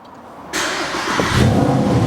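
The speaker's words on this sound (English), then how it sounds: "Let's start her up." A white Mercedes SLS AMG with a 6.3-litre engine cranks and fires with a sudden loud roar, settling into a deep, rumbling idle that swells slightly, close up and with no talking.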